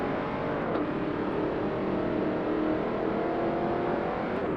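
An American muscle car engine roars in a Forza Motorsport race, a steady moderately loud drone with rising and falling revs and no talking over it.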